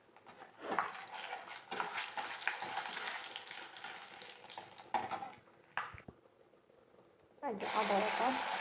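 Dried chillies and panch phoron five-spice frying in oil for khichuri, a close crackling sizzle with stirring scrapes, a voice talking over it, a brief lull, then a louder burst of sizzling near the end.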